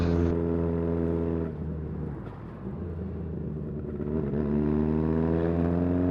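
A classic Honda CB900F motorcycle exhaust burbles with a deep, throaty rumble, dipping briefly as it eases off and then rising back to a steady growl nearby.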